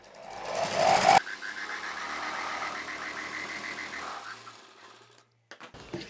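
A sewing machine runs in one steady stitching burst of about three seconds, putting an extra line of stitches along the top side of a blouse lining piece. It starts after a brief loud rustle and stops, followed by quiet.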